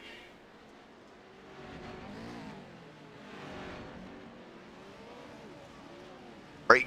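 Pro 4 off-road race trucks run laps around the Wild Horse Pass Motorsports Park dirt track, engines droning and revving at a distance in a steady wash of noise, with a sharp, loud burst right at the end.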